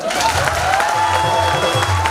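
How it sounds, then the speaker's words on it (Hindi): An audience in a seminar hall claps loudly in a dense, continuous burst, with crowd noise and a low hum underneath. Some voices can be heard mixed into the applause. "ताली बजाओ यार"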